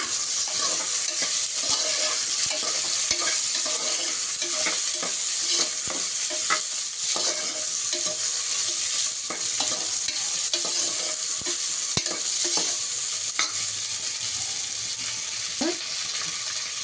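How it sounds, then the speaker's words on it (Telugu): Steady sizzling of vegetables frying in oil for vegetable biryani, with repeated clinks and scrapes of a spoon stirring the pan, continuous and close with no voices. "వేసి కొంచెం ఇవి కూడా ఫ్రై చేసుకోవాలండి."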